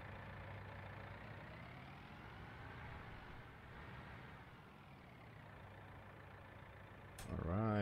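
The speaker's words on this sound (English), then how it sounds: "Let's put this tractor back in the shed." A tractor engine in Farming Simulator 19 drones steadily throughout at moderate level, a continuous mid-range rumble with a slight swell, then a sharper rise in pitch and loudness near the end.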